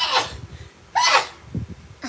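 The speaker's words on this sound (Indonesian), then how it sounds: "Ditanya malah dia bersin." A person sneezes, a sharp burst of breathy noise repeated in quick spurts over a couple of seconds, close and fairly loud, with soft breathing or giggling between them.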